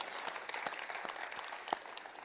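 Applause from a small church midweek gathering, faint and distant, with scattered claps popping through a soft, continuous patter.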